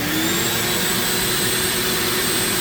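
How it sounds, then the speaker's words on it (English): Dust suction system for Dremel carving a cherry wood pumpkin, a steady loud vacuum-like roar with a faint high whine, running alone and close. "Turn on the suction system and let's rock."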